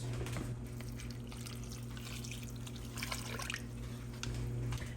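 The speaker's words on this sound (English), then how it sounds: "I'm gonna add some water to this and fill this and place in the pot roast." Water is poured steadily into a crock pot while a pot roast is being prepared, a continuous trickling and splashing with a low background hum.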